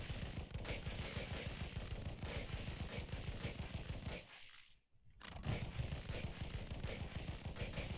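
Turret fire from a wall of turrets in CluckMech Oasis, a tower defense bullet hell game: a dense, continuous rapid stream of shots that briefly cuts out to near silence midway before resuming just as thick.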